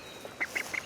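A baby duckling gives three short, high peeping quacks in quick succession, close by and fairly soft, with no talking.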